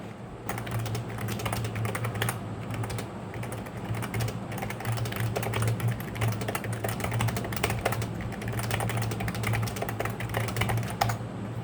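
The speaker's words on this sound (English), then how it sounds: "I'm gonna type a little bit more so that you can hear the sound." Continuous, rapid typing on an Ajazz AF98 Plus membrane keyboard, with dense close-up key clacks running steadily throughout and no speech.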